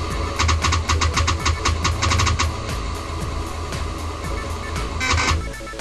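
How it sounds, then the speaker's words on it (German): An emulated Amiga floppy drive loads the Workbench disk at turbo speed, giving rapid, busy mechanical clicking and grinding bursts in quick succession, close and continuous with no talk. "Das Geräusch vom Diskettenlaufwerk ist jetzt natürlich sehr, sehr hektisch im Vergleich zum Original."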